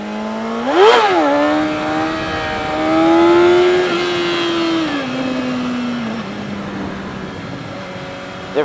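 A motorcycle engine revs during a wheelie, rising sharply to a high whine, holding, then easing down into a steadier drone, loud and close with no talking.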